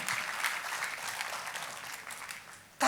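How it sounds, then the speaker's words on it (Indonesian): A church congregation claps enthusiastically for God during a sermon on fasting and prayer, producing an even, continuous wash of hand claps from a large crowd that holds steady throughout. "Tepuk tangannya yang meriah buat Tuhan."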